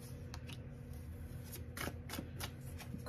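Tarot cards are shuffled and handled close up: a run of quick papery riffles and soft slaps, several in a row, over a low steady room hum.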